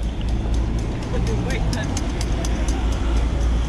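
An old car rolls past on a busy Paris street, its engine buried in a steady, loud roar of close traffic.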